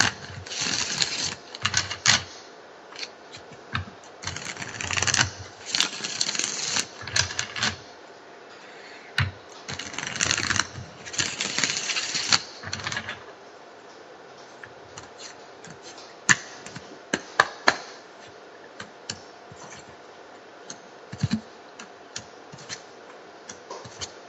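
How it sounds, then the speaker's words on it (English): Tarot cards shuffled by hand in short riffling bursts with pauses between, close and fairly quiet, followed by scattered soft taps and clicks. "We're shuffling."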